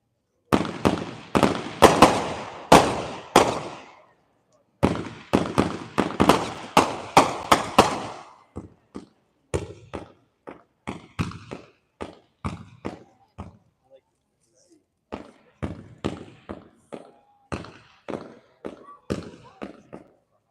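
A 42-shot House Party fireworks cake fires a rapid string of sharp, loud bursts, with a short pause and then more cracks in several uneven volleys that thin out toward the end.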